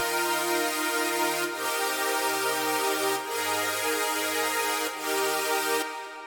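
Wide, stereo-enhanced future bass saw-synth pads hold thick sustained chords, shifting to a new chord about every second and a half in a loud, even, continuous wash with no voices.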